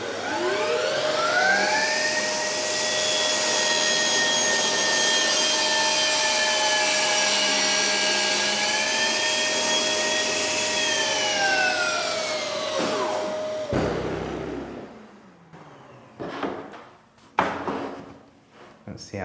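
A table saw cutting wood with the fence set at 20 millimetres: the motor spins up to a loud steady whine, holds through the cut, then winds down, followed by clatter and handling noises close by.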